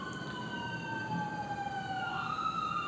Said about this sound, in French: Je suis désolé pour les sirènes, on est à Tel Aviv.